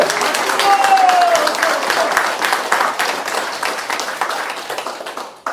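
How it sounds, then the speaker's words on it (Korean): Applause at a political rally in Jeju, loud dense clapping from a crowd that gradually thins and fades toward the end. "박수!"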